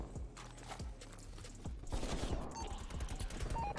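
Gunfire in the video game Call of Duty Cold War comes as rapid, dense bursts of automatic shots, fairly quiet and layered over a busy game background.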